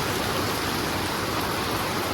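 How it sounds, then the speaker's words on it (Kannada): Heavy rain pours down in a continuous, even hiss that fills the whole stretch without pause, loud and enveloping with no voices. "ಮಳೆ ಸೌಂಡ್ ಬರ್ತದ"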